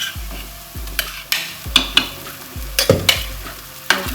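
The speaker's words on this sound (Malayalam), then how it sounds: "ഇനി ഇതിലോട്ട് ഇപ്പം നമ്മൾ ഈ അരച്ചുകൊണ്ട് വെച്ചേക്കുന്ന മസാലക്കൂട്ടില്ലേ, അത് ഒഴിച്ചു കൊടുക്കാം." Ground masala paste hits hot oil in a pan for fish curry, sizzling loudly with a series of sharp scraping stirs and clanks at a steady rhythm, close and with no voices.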